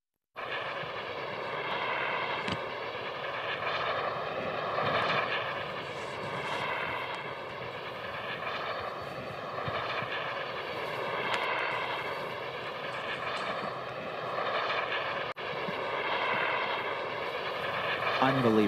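Jet-powered wing engines in flight over the English Channel, a steady, fairly loud engine roar with slow swelling and fading, under voices talking.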